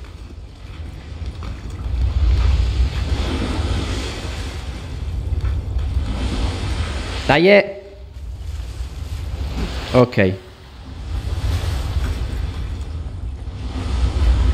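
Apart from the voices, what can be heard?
waterfalls in Assassin's Creed 3 Remastered, video game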